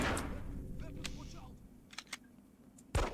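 A few sharp, quick pistol shots from the game Hitman: Codename 47 pop over a steady background hum, with keyboard-like clicks and faint game noise in between.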